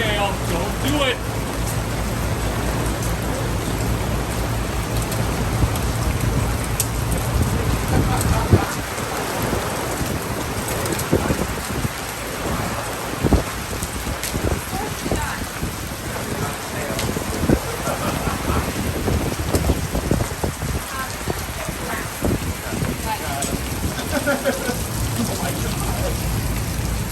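Heavy rain hammers steadily on a roof during a storm with hail and thunder at an outdoor live concert production, a dense continuous roar with occasional louder low rumbles, voices faintly audible underneath.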